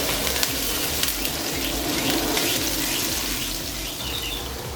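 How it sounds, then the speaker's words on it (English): Aromatics sautéing for a duck curry with pigeon peas and coconut milk, a steady hissing sizzle in the pan with scattered sharp spatters and crackles, fairly loud and close. "that does splatter, and we're going to allow this to saute until it's brown or light brown in color"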